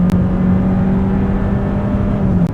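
New Kia Sportage with a 1.6-liter turbo engine and eight-speed automatic accelerates under strain, a steady, loud engine drone heard from inside the cabin with no talking.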